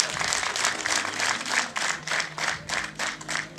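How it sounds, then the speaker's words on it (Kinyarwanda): Guests clap at a Rwandan traditional marriage request and dowry ceremony, a loud, sustained crowd applause with a pulsing, roughly rhythmic beat. "Ayo mashyi ndayashimye"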